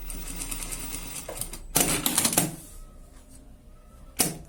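A sewing machine stitches fabric for a luggage organizer, following a pattern piece as a guide. It runs in a couple of short, fairly loud bursts with quiet pauses between them.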